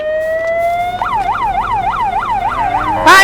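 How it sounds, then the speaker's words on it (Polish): Police car siren sounds close and loud, starting as a steady rising tone, then switching to a rapid wailing yelp that repeats about eight times before a sharp burst of noise at the end. "nie wyłącz te syreny, dziadek śpi!"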